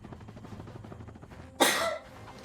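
A single sharp sneeze, loud and close, bursting out over quiet game sounds and fading after about half a second.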